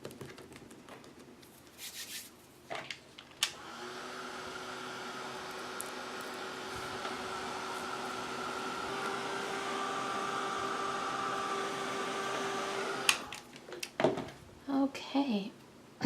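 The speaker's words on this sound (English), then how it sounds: "Now I'm just going to hit those with the heat gun to get them good and dry for the next step." Heat gun blowing steadily over a painted art journal page, a continuous whooshing hiss holding for about ten seconds before it cuts off, with brief handling noises at either end.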